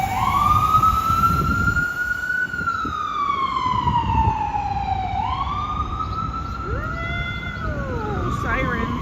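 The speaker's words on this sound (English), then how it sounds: "Ooh, sirens, always." Wailing emergency sirens on a New York street, sweeping up and down in pitch, loud and continuous with a second siren joining near the end, over traffic rumble and people talking.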